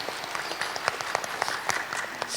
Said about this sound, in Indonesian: berikan tepuk tangan juga untuk beliau